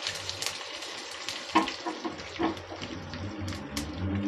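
Mustard seeds, cumin, green chillies and curry leaves sizzle in hot oil as a tempering for Mangalore cucumber majjige sambar. A steady close frying hiss runs throughout, broken by a couple of sharper pops and a light clatter.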